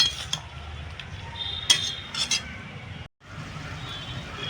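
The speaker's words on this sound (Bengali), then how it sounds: "একটু মিলিয়ে দেবো আমি ভালো করে" Utensil clinks and scrapes against a pan as a soft mushroom and greens mixture is stirred together, a few sharp metallic taps standing out over a low steady background.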